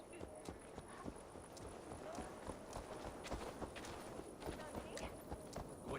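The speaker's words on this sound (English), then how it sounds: "Stop that horse!" Horse hooves clip-clop at a quick, steady pace in Assassin's Creed Valhalla, quiet and mid-distance under a faint high game tone.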